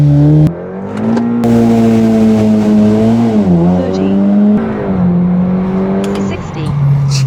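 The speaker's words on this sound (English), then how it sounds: "Let's see if we can get this launch control nailed." A Seat Leon estate pulls away hard under launch control, its engine note climbing steadily through the gears with a brief dip at each shift, loud and close, while people talk in the car.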